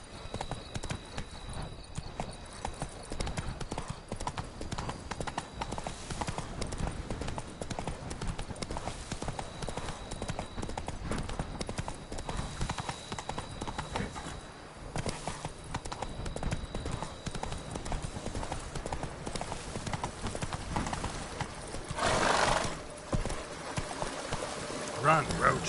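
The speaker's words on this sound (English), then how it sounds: "Run, Roach" Horse hooves clip-clopping at a steady galloping rhythm in The Witcher 3, continuous and fairly close for the whole stretch, with a game voice speaking over it.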